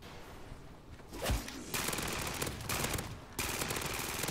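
Rapid automatic gunfire from a weapon in MW3 Zombies, loud, close bursts: a short burst, then sustained firing broken by brief pauses, against game background noise.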